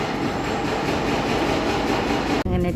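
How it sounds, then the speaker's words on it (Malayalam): A loud, dense rumble of a train at a station platform with construction work underway fills the clip continuously, then a sudden shift near the end brings a brighter, rattling tone as the train starts moving. "ട്രെയിൻ നീങ്ങി തുടങ്ങി"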